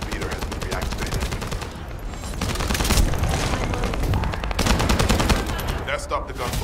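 Rapid bursts of gunfire in an Unreal Engine 5 video game, sharp repeated cracks in dense automatic volleys with a brief lull before another heavy burst, loud and close.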